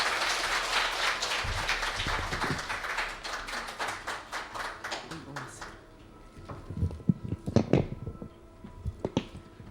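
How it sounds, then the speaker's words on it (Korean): Audience applause welcoming the opening speaker at a nursing managers' executive course held at the Lotte Hotel, a dense clapping wash for about six seconds that thins into scattered claps. "큰 박수로 맞이해 주시기 바랍니다"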